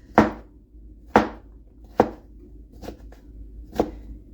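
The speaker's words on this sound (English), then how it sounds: "we're just chopping these down into kind of bite-sized sizes" Five sharp knife strikes against a cutting board, spaced roughly a second apart, close and distinct over a faint background hum.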